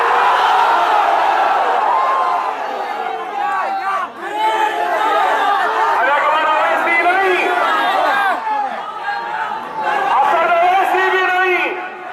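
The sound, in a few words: crowd shouting the Takbir slogan at a political rally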